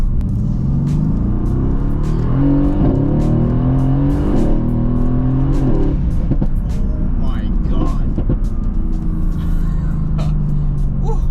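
A tuned Mercedes-AMG GT S accelerates hard with a downshift, its engine roaring loud and close as the pitch climbs in sustained rising sweeps, a rumbling drone running continuously throughout.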